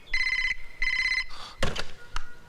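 A telephone rings twice in clear, rapid trilling bursts, followed by a few sharp knocks and thuds close by, with no talking.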